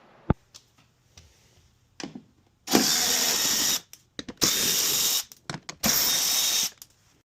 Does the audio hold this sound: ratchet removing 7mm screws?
yes